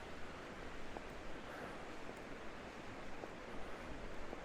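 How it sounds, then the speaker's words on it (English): The river Afon flows through the Snowdonia village of Beddgelert in Wales, heard as a steady, close rushing of water with faint wind, no one speaking. "As we walk in, we've got the river,"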